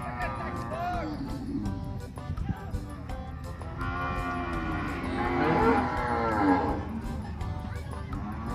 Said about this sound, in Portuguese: Boi de Lindomar, solto.